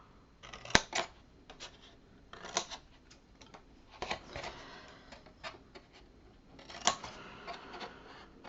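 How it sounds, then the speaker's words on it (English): Scissors snip out the corners of a paper baby folio in short, crisp cuts close by, coming in several separate clusters with quiet gaps between them. "we're going to cut out these corners"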